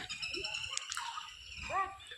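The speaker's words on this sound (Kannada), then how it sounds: "ಪಕ್ಷಿಯು ಕೂಗುತ್ತಾ ಇದೆ." A bird calls outdoors on a green hillside near a small deer park, a few short chirping notes rising over steady open-air background noise, with one louder call near the end.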